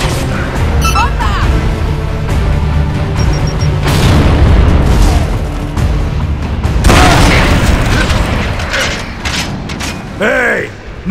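Bomb blasts in the video game Gears of War: Judgment boom loudly in bursts over several seconds, mixed with mechanical clatter and battle noise, with a voice shouting over the action.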